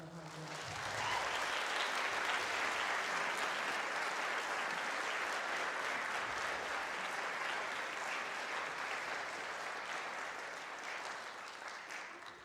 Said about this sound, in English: Can you give them a big round of applause for their hard work?